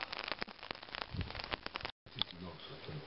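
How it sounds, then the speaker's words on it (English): Rain patters and crackles steadily on a surface nearby, with a brief dropout partway through. "And now it's raining"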